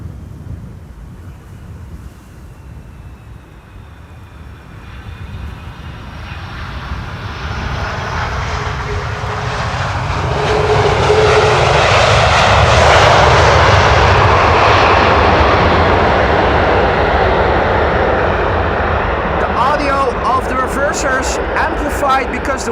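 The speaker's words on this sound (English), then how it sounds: "This is KLM Flight 676 arriving from Edmonton in Canada." KLM passenger jet on arrival at Amsterdam Schiphol Airport in crosswind, its engine roar growing from distant to loud as it passes close overhead and then fading slightly, with wind buffeting the microphone and a voice talking underneath.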